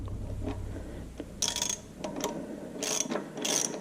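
Impact wrench with a 5/8 inch socket running down head bolts on an IHC Farmall Super MTA tractor engine, three short bright mechanical bursts of rattling with quieter pauses between, fairly close.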